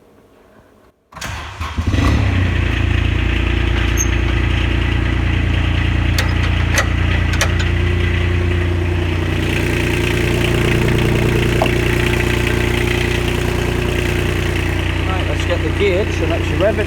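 Kubota RTV 900 utility vehicle with a hydraulic transmission problem: after a second of quiet the engine cranks and catches, then settles into a steady, loud, low idle that continues to the end.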